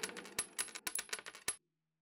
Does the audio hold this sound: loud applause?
no